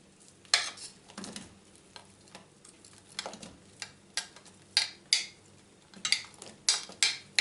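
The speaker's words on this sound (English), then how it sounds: "I'm also going to start frying the onions and the pepper." Steady sizzling of onions and pepper frying in a pan, punctuated by repeated scraping and stirring strokes, growing more frequent toward the end, with no voices.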